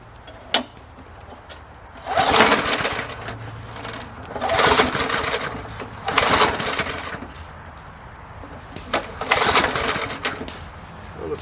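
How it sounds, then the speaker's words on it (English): An old lawn mower, bought around 1992, is being started. Four rough, noisy bursts of about a second or two each are spaced a couple of seconds apart, and the engine does not keep running between them. "will it start? I think we got this mower in 1992?"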